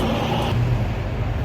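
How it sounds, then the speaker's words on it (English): A bus in Gandia, Spain rumbles nearby with a low steady engine drone, a brief hiss near the start, then continued idling or slow driving throughout. "That's the bus."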